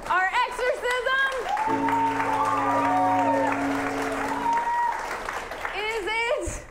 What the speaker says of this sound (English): let's get our golf clap going